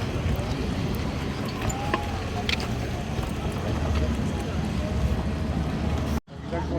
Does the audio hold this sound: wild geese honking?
no